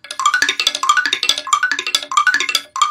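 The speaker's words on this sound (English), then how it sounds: "We have our stir xylophone." A stir xylophone, a toy percussion instrument, plays a quick run of bright, bouncing tones that repeat in short clustered phrases, loud and close with no talking.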